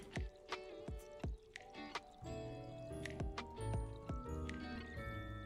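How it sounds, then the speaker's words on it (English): Running water in The Sims 4 video game trickles and splashes continuously, with scattered drips and plinks layered over a steady liquid flow, and no talking over it. "why do I hear water?"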